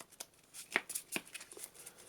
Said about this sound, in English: Shuffle up, random draw first.